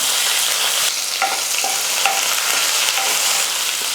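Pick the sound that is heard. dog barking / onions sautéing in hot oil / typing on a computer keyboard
onions sautéing in hot oil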